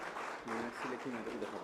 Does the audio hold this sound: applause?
yes